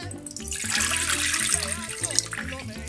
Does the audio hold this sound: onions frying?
no